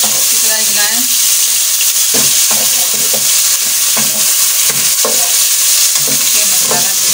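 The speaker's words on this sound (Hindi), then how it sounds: "डाल दें अदरक लहसुन का पेस्ट, अच्छी तरह हिलाएं" Ginger garlic paste sizzles loudly in a pan while being stirred for a masoor dal recipe, giving a constant close frying hiss broken by a series of scraping stir strokes.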